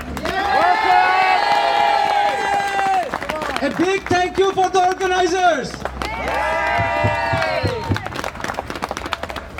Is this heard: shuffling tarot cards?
no